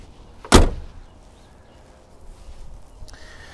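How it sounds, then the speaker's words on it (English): The door of a 1959 Pontiac Parisienne shuts with a single solid, close thud, followed by quiet room ambience and a faint small click near the end. "When you close the doors on this car, you can kind of almost close it just,"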